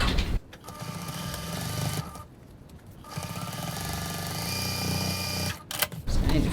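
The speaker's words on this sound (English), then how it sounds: "Now I'm just going to stitch my seam at 1 centimetre 3/8 of an" A sewing machine runs in two sustained bursts, stitching a 1 cm seam through sling bag pocket and body fabric, its motor hum steady and close with short pauses between runs.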